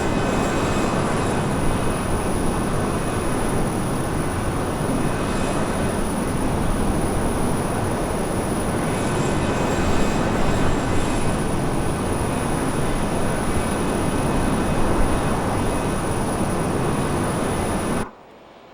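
Steady, loud jet airliner engine roar and cabin rumble at cruising altitude, a constant broadband drone that continues unbroken for most of the clip and then cuts off abruptly at the end.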